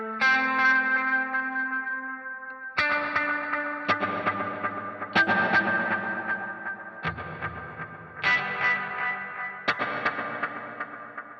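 Electric guitar runs through a Boss Metal Zone distortion pedal and a Hall of Fame 2 reverb, giving a synth-like tone; several sustained, heavily processed chords strike in sequence, each ringing out with lush reverb, loud and alone.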